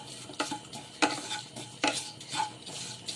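Roasted grated coconut with turmeric powder is stirred in a pan just taken off the heat. A handful of distinct spatula scrapes repeat every half second or so over a faint lingering sizzle, close and with no voices.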